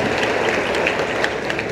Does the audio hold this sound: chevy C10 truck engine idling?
no